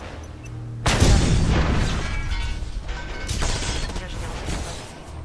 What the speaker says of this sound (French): Bon, on va lancer une petite grenade.